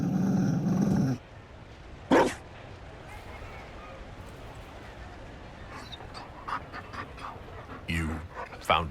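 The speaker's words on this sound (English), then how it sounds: "You found a dog? They don't breed Mabari in Olay." A Mabari war dog pants in Dragon Age Inquisition in short, breathy bursts with occasional whimpers. A voice is heard briefly at the start.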